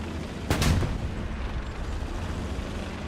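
A single tank cannon shot booms out in the Hell Let Loose video game battlefield, a short broadband blast with low rumble that fades into continuous battle ambience, with no voices.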